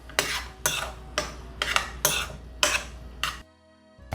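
Chopped button mushrooms with smashed black peppercorns are stirred in a pan for a peppercorn steak sauce, making about seven rhythmic scraping strokes of a utensil against the pan, close and distinct, then a brief pause.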